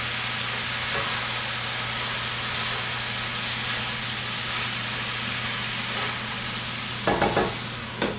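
Gravy for Mrs. Wilkes' meatloaf cooks in a pan with a steady low sizzle and hiss, then a few louder scraping strokes of stirring near the end.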